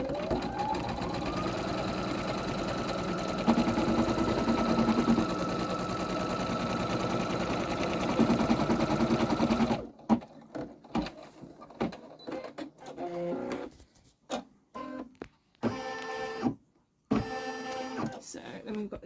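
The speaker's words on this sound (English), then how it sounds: "I'll try and like hold it down while it stitches the outside stitching" An embroidery machine stitching the outline of a patch, a rapid mechanical chattering hum running steadily and close, then breaking into short stop-start bursts with pauses.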